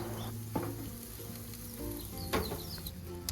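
Milkfish (bangus) sizzles on a backyard barbecue grill as it gets flipped, a faint steady crackle broken by a few soft clanks and scrapes of the turning.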